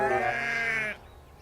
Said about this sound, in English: There were sheep on the tracks.